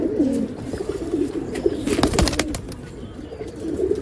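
Rekdhar pigeons coo in low, repeated throaty calls close by at a bird sale in Bangalore, with soft rustles and a few sharp knocks in the middle.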